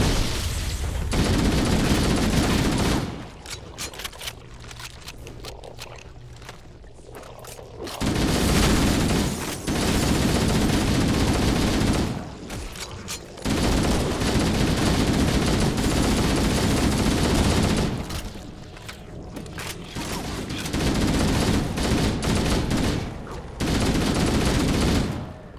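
Sustained shotgun gunfire in Halo: Combat Evolved, loud repeated bursts of blasts and booms in clusters with brief quieter gaps between volleys, no talking over it.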